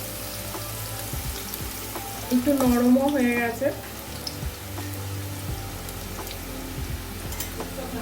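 Kochur loti (taro stolons) fry in a pan with a soft, steady sizzle, while someone talks briefly over it.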